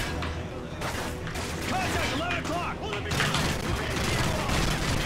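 Rapid bursts of AK rifle fire in Call of Duty MW3 crackle through the clip, with a voice talking over the shots and background game noise throughout.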